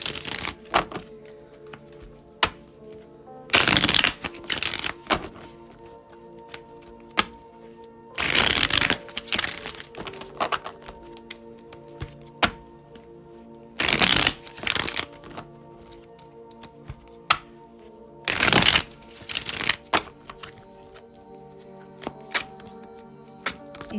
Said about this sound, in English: Let's do 5 more shuffles.